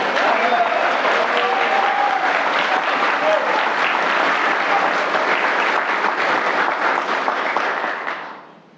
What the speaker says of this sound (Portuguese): Um aplauso para ele.